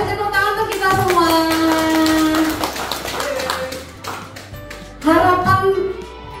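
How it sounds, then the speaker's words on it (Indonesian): A school group claps together, loud and sustained, with tonal voices or chanting mixed in and a fresh burst of clapping near the end. "tepuk tangan untuk kita semua"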